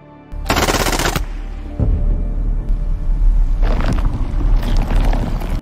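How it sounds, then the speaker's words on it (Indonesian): Loud bursts of rapid automatic gunfire, rattling in long sustained volleys with a deep rumbling background. "Seorang komandan militer bernama Choi Yong-sik kemudian mencoba menembak bola itu"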